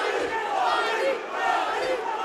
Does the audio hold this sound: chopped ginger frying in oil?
no